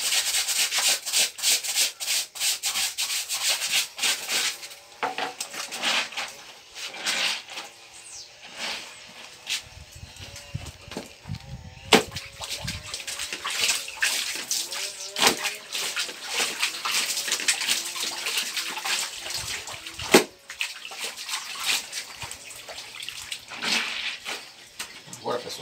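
Clothes being hand-scrubbed and washed with water, rubbing and sloshing sounds in repeated bursts at close range, with someone talking over much of the scrubbing.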